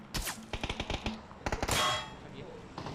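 Gunfire in the PUBG Battlegrounds video game, with a rapid volley of sharp shots, a pause, then another quick burst and a ringing metallic impact, heard at close range with faint voices nearby.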